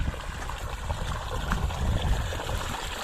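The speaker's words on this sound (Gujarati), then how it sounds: "પાણી વળે છે." Irrigation water flowing into a wheat field, a steady, continuous rushing and gurgling that stays even throughout, heard outdoors close by with no talking.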